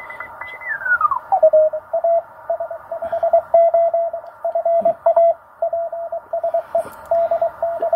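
Amateur radio signals on the 20m band come through a receiver as it is tuned: a sliding tone settles into a steady carrier, then rhythmic Morse-like beeps pulse on and off over faint background hiss.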